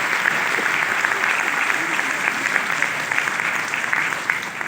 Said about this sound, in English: Give Joel a big round of applause, ladies and gentlemen.